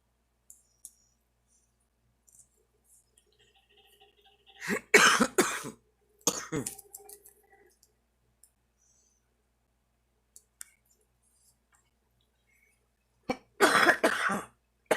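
A person coughs in a few harsh bursts, spaced several seconds apart, with quiet clicks in between.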